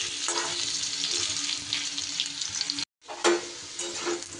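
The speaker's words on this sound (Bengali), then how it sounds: "প্রায় 2 মিনিটের মতো কচুগুলোকে আমি একটু দেখুন সুন্দর করে ভেজে নিয়েছি।" Salted pieces of taro (kochu) fry in a wok with a steady, close, crackling sizzle. The sound drops out for a moment, then resumes with light stirring scrapes, and no one speaks.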